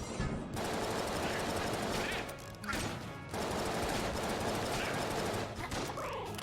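Rapid sustained gunfire from an infinite-ammo gun in Enter the Gungeon, dense continuous bursts with brief pauses, loud and close.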